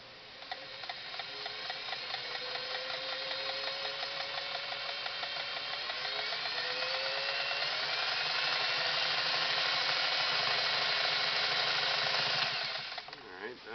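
A Singer Model 404 sewing machine stitches through two layers of cotton poplin bed sheeting, giving a steady, rapid mechanical whirring and ticking that runs evenly for about twelve seconds before stopping.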